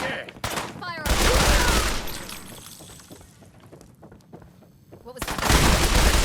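Fallout 4 gunfire rings out in dense, loud volleys of rapid shots with a brief lull between two bursts, while a voice talks faintly in the mix.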